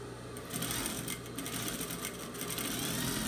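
A sewing machine runs steadily while stitching a doll's small sleeve, with a continuous rapid whirring and needle chatter close by, pausing briefly and restarting.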